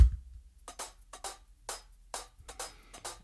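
A looped music sample with punchy drum hits repeating in a steady rhythm, each hit separated by short gaps.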